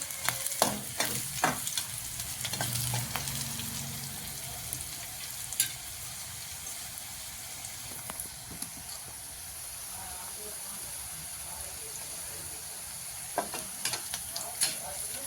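Turmeric is stirred and sautéed in a pan for a chapati crumb dish: a continuous low frying sizzle broken by scraping spatula strokes, louder and busier early on, then settling into a quieter steady hiss.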